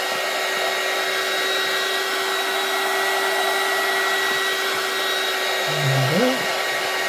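A heat gun blows hot air onto heat shrink sleeves over a repaired LED pixel strip for a mega tree, giving a steady, loud whooshing hum that runs throughout, with a brief tonal rise near the end.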